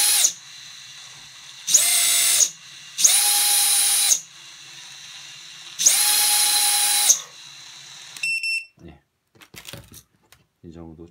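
Motors on a racing drone powered by a 5S LiPo battery spin up in three loud, steady high-pitched whirring bursts of one to two seconds, separated by pauses, followed by scattered handling clicks.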